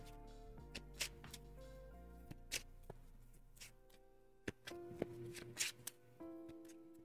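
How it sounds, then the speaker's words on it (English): A card being shuffled into the deck during a Lord of the Rings card game, heard as quiet riffles and crisp card snaps close by, over a faint background hum. "Shuffle this card into the encounter deck."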